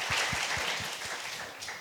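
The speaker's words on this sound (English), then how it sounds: "Welcome them with a round of applause." A panel audience gives a short round of applause welcoming guests, light clapping with a few distinct low claps at the start fading into a soft wash.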